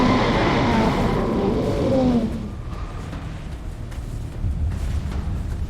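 An asteroid impact blast sound effect: a loud, deep roaring rumble that sweeps downward and fades into a lower sustained roar.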